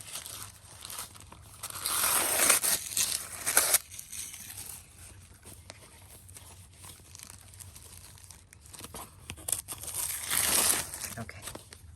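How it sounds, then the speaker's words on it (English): Tissue paper inside a gift box is unwrapped and rustles in close, crisp bursts of crinkling and tearing, the loudest near the start and again near the end, with softer handling noise in between. "I just love how beautifully wrapped this tissue paper is."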